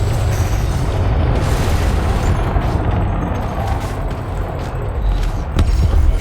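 A spaceship blows up in the space combat game Elite: Dangerous, a loud, sustained booming roar that rumbles heavily for several seconds with dense low-end crackle and no pause.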